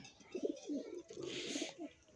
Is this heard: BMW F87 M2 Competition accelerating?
no